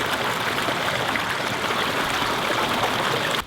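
A waterfall in the woods rushes in a steady, loud, close roar of falling water that stays constant before cutting off at the very end.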